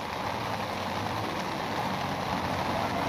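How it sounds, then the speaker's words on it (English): Steady rain falling as a storm sets in, a dense even hiss of drops on surfaces that holds constant throughout, with no voices. "It's now raining."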